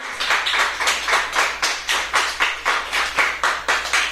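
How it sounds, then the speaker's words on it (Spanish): A church congregation claps together in steady, rhythmic unison, about eighteen sharp beats in four seconds, loud and close, with no talking over it. "Le damos una fuerte ofrenda de palmas al Señor."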